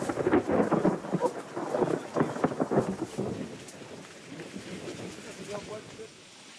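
Heavy rain pours with rolling thunder in Brazil, loud at first and then easing into a softer steady downpour.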